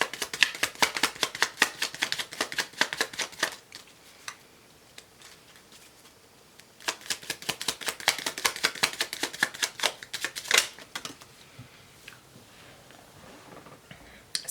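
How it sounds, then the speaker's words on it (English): Tarot cards being shuffled and drawn by hand, a rapid crisp riffling in two long bursts with a quieter pause between, close and soft, ending with a few single card snaps. "Let me pull 6 cards"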